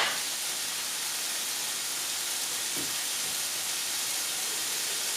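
A pot of food for a lean vegetable burger boils on the stove, giving a steady, close broadband hiss and bubbling rush that holds evenly throughout, with no voices.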